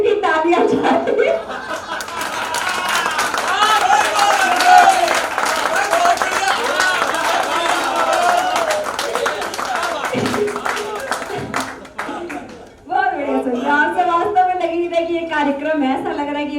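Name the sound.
audience applause at a poetry gathering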